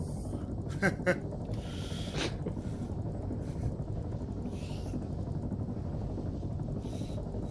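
A helicopter in Arma 3 whirs steadily, its rotor drone a constant low rumble throughout, with a few brief sharp clicks and bursts over it.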